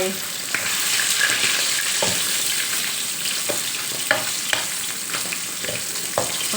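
Short mackerel (pla tu) frying in a pan, with a steady close sizzle and occasional sharper crackles and pops, alone without talk.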